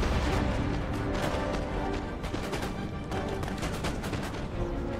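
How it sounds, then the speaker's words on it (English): Point-blank volleys of gunfire in Empire: Total War crackle and boom in loud, overlapping bursts that continue without a break for about five seconds. "That's point blank fire."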